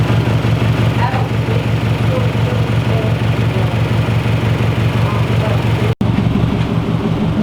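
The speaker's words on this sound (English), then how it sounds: "One tiny rev for the vlog." A turbocharged FRS engine runs right after its first start-up, giving a loud, steady, throbbing idle close by, with a sudden cut-out near the end before the idle resumes.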